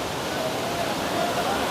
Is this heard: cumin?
no